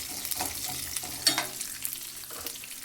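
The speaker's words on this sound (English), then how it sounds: "After that, add some onions. Now mix everything well." Chopped onions fry and are stirred in a hot pan with hing while cooking charu, giving a steady close sizzle broken by soft scraping stir strokes.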